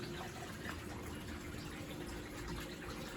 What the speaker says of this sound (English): The pump's working.